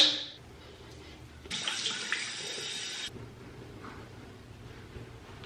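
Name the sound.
washing face with water and Curology cleanser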